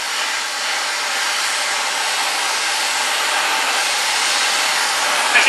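Oxy-acetylene torch heating a metal piece for bending: a steady, loud, close roaring hiss of the flame, continuous and unchanging throughout with no voices.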